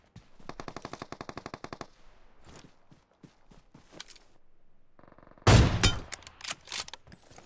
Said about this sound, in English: I'm shooting my bullets.